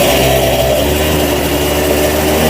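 Kick-started 1988 Honda Vision Met-in 50cc scooter, a small two-wheeler running its engine loudly and close by, with a continuous dense rasping drone that holds steady throughout and has no talking over it.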